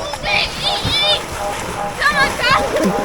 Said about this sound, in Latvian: Paskaties, kā viņa airē.